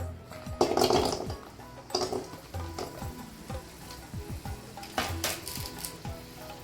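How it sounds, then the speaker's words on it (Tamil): Sliced onions sizzle in hot oil in a pan for minnal keerai chutney, a quiet crackle close by, broken by soft stirring scrapes and light clinks of the pan. "அதுலேயே கொஞ்சம் எண்ணெய் ஊற்றிக்கலாம். வெங்காயத்தை போட்டுக்கலாம்."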